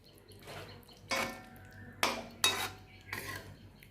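Bengali fish curry (macher jhal) with ghee and garam masala, stirred in a pan on a switched-off gas flame: four or so sharp metal clinks of a utensil against the pan, quiet and close, with silence between them.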